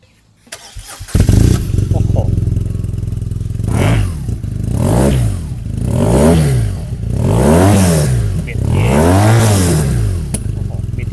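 A black 2014 BMW R nineT motorcycle with about 4,000 km on it starts up, then its boxer engine is revved repeatedly in several rising and falling swells, loud and close.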